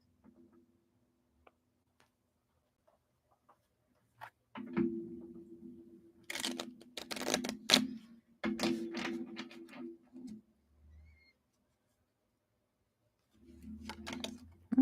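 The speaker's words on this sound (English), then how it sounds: "That's the second time a card has just popped out when I'm shuffling." Tarot cards are shuffled by hand at close range, with a few faint ticks followed by several bursts of dry riffling and papery flicking, separated by pauses and set over a low hum.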